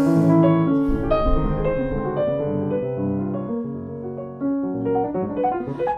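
Solo piano plays a Chopin Scherzo passage with sustain pedal and flexible rubato: a long descending line of rich, ringing chords and notes that blur together, played close and fairly loud with no talking.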